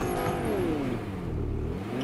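A car engine revs steadily in a video game, with a rising tone sweeping up through the clip and a continuous whirring drone that stays loud and close throughout, with no talk over it.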